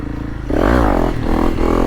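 Dirt bike engine revs hard in first gear as the front wheel lifts on a back road around Koh Lanta, a brief loud surge rising then dipping, with some clatter.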